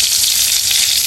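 Cumin seeds fry in hot oil with a loud, dense, continuous sizzle, close up and steady throughout.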